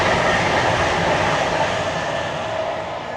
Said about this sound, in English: And that was a train.